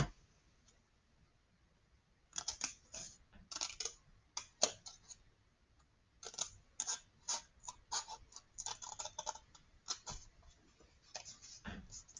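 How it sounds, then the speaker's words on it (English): Scissors snip through a paper roller coaster track, giving crisp, close clicks in quick bursts, with pauses between runs of cuts and no talking. "now we're going to unfold it so we can cut out that gray area"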